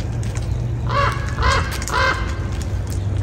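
A crow caws three times in a steady rhythm, loud and fairly close, over a low outdoor rumble at Big Bear Lake, California.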